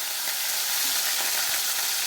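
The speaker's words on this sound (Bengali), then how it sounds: "কড়াইতে দিয়ে দেওয়ার পরে আস্তে আস্তে ভাজা করব।" Katla fish pieces frying in oil in a wok give a steady, dense sizzle throughout, loud and close, with no voices.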